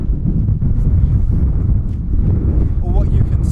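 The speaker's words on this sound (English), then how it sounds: "We're on Dartmoor again, and it's very windy." Strong wind buffets the microphone on open Dartmoor moorland, a loud continuous low rumble with gusty swells that runs the whole time, with a brief tonal whistle near the end.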